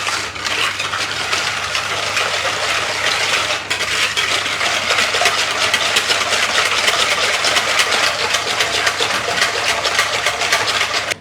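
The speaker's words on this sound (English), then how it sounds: "now all we do is we whisk this until it's smooth" A whisk beats melted butter and granulated white sugar in a bowl for red velvet brownies, producing rapid, steady scraping and clinking strokes, loud and close, continuing without pause.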